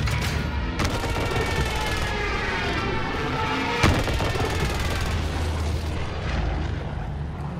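A called-in artillery strike rumbles in Call of Duty: Warzone, a dense, continuous roar of blasts and rapid detonations with a sharper crack partway through, loud and unbroken.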